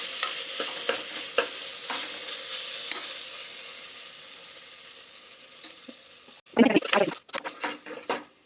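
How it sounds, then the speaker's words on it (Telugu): Ginger garlic paste and turmeric fry in hot oil with a steady, close sizzle, broken by several stirring scrapes and a louder burst of spluttering near the end. "ఆయిల్లో ఫ్రై చేసుకొని అల్లం వెల్లుల్లి పేస్ట్, పసుపు వేసుకుందాం."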